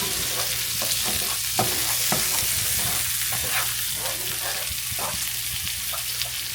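Yesterday's beans are stirred into pork in a sizzling frying pan for a chili-style mix, with repeated spoon scrapes and clacks over a steady, close sizzle and no talking.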